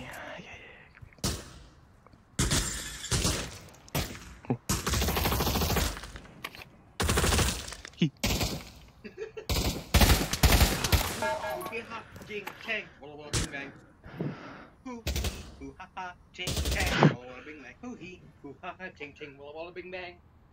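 Gunfire in the Pavlov VR shooter: rapid bursts and single shots crack out in uneven clusters, loud and close, mixed with players talking over and between the shots.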